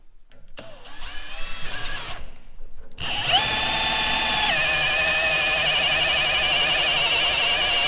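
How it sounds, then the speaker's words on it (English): A power drill whines and bores a hole in the middle of a trailer tank, starting with short revving bursts and then settling into one long, steady, loud drilling run whose pitch dips partway through. "drill a hole in it"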